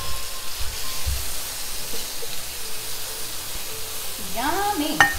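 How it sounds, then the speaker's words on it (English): Red curry chicken stir fry sizzling in a pan. A soft, continuous crackle sits close under faint background noise, with a brief voice near the end. "we'll let that cook"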